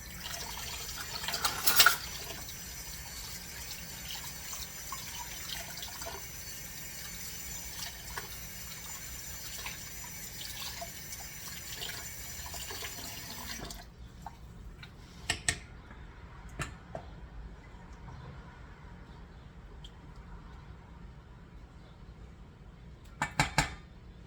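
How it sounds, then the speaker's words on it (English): Running tap water rinses a spoon in a home kitchen while making chicken salad with mayonnaise. A steady, fairly quiet hiss of water runs for about fourteen seconds, then stops, followed by a few faint clinks of the spoon. "I'm going to have to clean the spoon."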